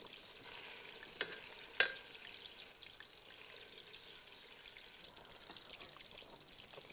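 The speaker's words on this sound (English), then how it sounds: "I'll mix it up." Mutton curry being stirred in a pan, with soft scraping and a steady sizzle of frying, plus two brief sharper clinks of a utensil early on, close and fairly quiet.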